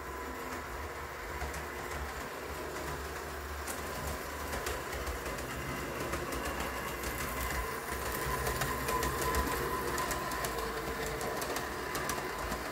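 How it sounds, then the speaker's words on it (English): A small pre-war O scale model freight train runs continuously along its track on DC power, a steady whirring rumble with faint clicking, growing slightly louder toward the end. "It looks like a regular freight train from the pre-war days."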